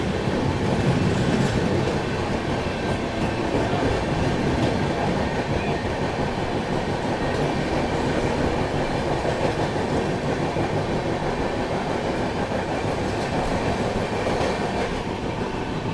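Steady onboard rumble of the 12286 Secunderabad Duronto Express in motion, continuous rail noise with faint clickety-clack of wheels over track joints, loud and unbroken throughout with no talking.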